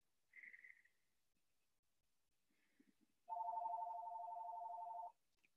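A phone rings during a yoga class: a brief high chirp, a short pause, then a loud sustained electronic ringtone lasting about two seconds before cutting off, in an otherwise quiet room.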